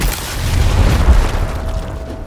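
Frag grenade blast in the video game Gears Tactics: one heavy, deep boom with a rumbling low-end tail that lingers and fades over the next couple of seconds.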